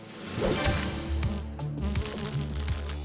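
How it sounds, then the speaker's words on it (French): A bee flying fast, at about 30 km/h, toward a spider web in a cartoon nature scene, making a steady, close insect buzz that holds loud for about three seconds. "Une abeille! Elle vole à 30 km à l'heure."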